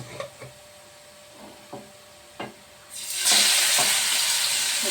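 Fish pieces hit hot oil in a pan and break into a loud, steady sizzle after a few soft clinks and taps, the frying hiss filling the space close by.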